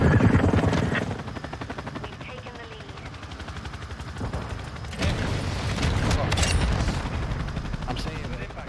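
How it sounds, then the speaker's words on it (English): A Call of Duty chopper gunner helicopter killstreak: rapid, sustained automatic gunfire and dull booms over a continuous rotor drone, with a player's voice talking throughout the busy battle noise. "I got a chopper gunner going."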